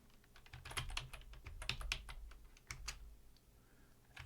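Typing a command into a Linux terminal on a computer keyboard, a quick burst of close, crisp key clicks in an uneven rhythm with a few heavier keystrokes, no voice.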